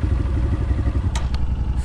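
A dirt bike engine running steadily at low speed as the rider pulls away on desert terrain, a continuous close rumble with a couple of brief clattering knocks partway through.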